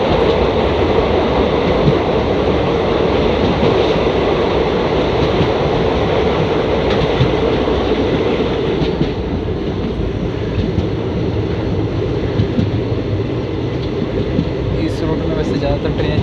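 Inside an ICF first-class coach of the 11405 Pune–Amravati Express under way, a loud, steady rumble of wheels and car body with faint rhythmic clatter, easing slightly about halfway through, with voices under the noise.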